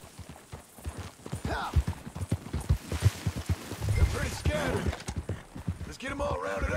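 Horse hooves clip-clopping in Red Dead Redemption 2 during a sheep roundup, a steady rapid trot of hoofbeats heard up close with a person talking over it.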